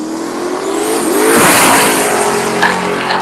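Chevrolet Camaro making a quarter-mile drag racing pass with a power wheelie, a loud engine roar climbing in pitch as it launches, swelling to a peak mid-clip and then easing slightly as the car pulls away.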